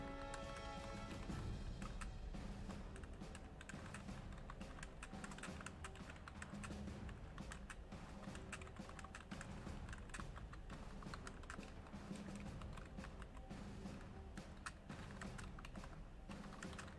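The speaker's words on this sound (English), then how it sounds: "I don't know why I'm typing this out." Rapid typing on a computer keyboard during a Pitch TV game session, dense irregular clicking and clattering that runs without a break for the whole stretch, close and fairly loud with no talk.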